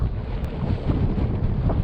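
Strong wind blowing at the coast by a fishing pier, buffeting the microphone with a loud, continuous rumbling roar, no voices present.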